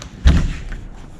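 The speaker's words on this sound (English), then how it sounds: "Let's go open the other side door real quick." A side door of a cluttered garage or shed, opened with a single close, heavy thud followed by quiet room tone.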